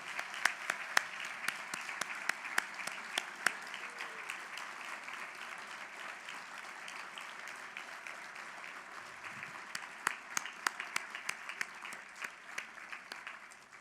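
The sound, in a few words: audience applause for county honorees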